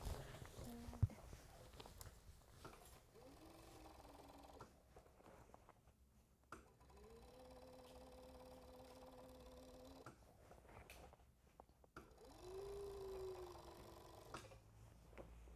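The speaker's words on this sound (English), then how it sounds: "So let's serge this off, and then we'll finish it up." An overlock serger sews a fabric seam on tailored pants, making quiet, steady motor whirs in several runs separated by short pauses.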